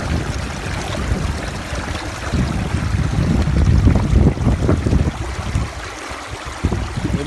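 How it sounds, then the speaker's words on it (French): Gusty outdoor wind buffeting a microphone, a loud, low rumbling roar that swells and dips throughout with no voices. "Un peu de vent, désolé les amis."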